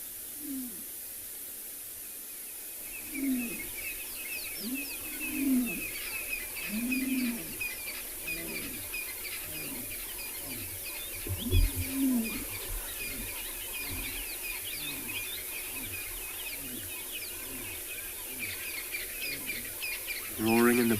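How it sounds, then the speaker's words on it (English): A lion roars in the distance on a South African morning safari, a faint rhythmic series of low grunting calls repeating steadily over background hiss. "Roaring in the background."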